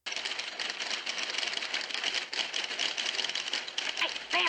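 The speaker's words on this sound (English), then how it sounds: "I love the sound of a typewriter, but a million typewriters at once?" Many typewriters clattering at once in a dense, continuous rattle of keystrokes, loud and steady throughout, with a brief burst of voices near the end.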